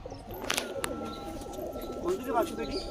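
A purebred racing pigeon coos softly at close range among rustling and faint background noise, with a few brief sharp sounds mixed in.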